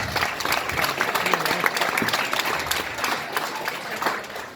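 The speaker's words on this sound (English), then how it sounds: "So I think you should give yourself a round of applause" Audience applause at a hurling club dinner dance, steady dense clapping from a crowd in a function room, continuous for several seconds with faint murmuring voices underneath.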